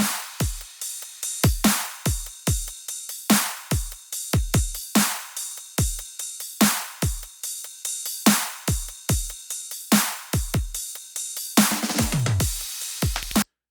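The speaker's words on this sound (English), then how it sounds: "So that's basically my main drum sound for this track," A trap drum loop plays alone and loud: punchy kicks, a chime, a crash and steady hi-hat and ride patterns repeat in a driving rhythm, ending in a dense washy cymbal burst.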